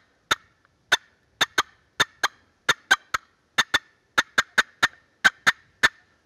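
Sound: turkey box call cutting, imitating an excited hen

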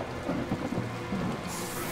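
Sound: thunderstorm and rain, cartoon sound effect

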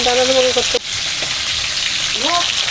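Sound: tilapia fish frying in mustard oil

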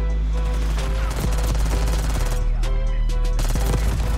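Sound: gunfire in the video game Black Ops 6

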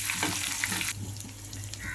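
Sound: shallots frying in oil

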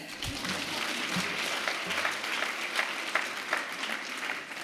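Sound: audience applause at congress

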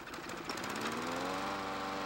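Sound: lawn mower engine being pull-started

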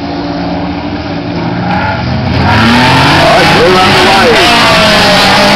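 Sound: race cars driving and revving at a race

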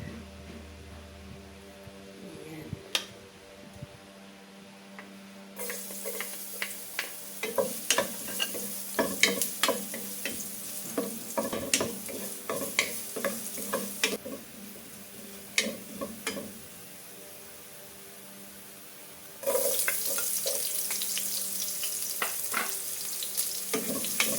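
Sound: sautéing onion and garlic in oil in a pan

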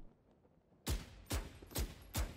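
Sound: gunfire in a first-person shooter video game

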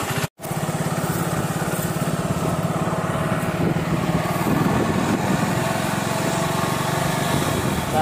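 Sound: motorcycle engine

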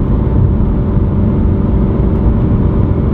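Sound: decatted BMW M3 engine drone cruising at 70 mph

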